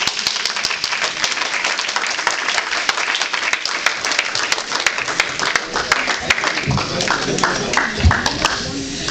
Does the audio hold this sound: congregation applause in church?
yes